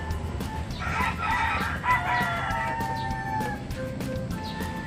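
A rooster crows loudly nearby, a long drawn-out call, with clucking hens and other fowl in the background.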